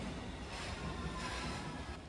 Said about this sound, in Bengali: সকাল সকাল এই ট্রেনের আওয়াজটা আমার একদমই ভালো লাগে না